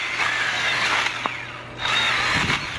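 Small battery mini chainsaw cutting wood, a loud close buzzing whine that runs in two sustained passes with a short dip between, no voices.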